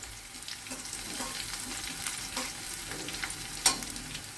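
Chopped garlic fries with onions in a pan, a soft continuous sizzle with a few stirring scrapes and one sharp clink near the end, fairly quiet and close.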